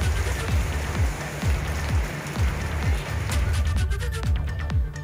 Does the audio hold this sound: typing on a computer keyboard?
no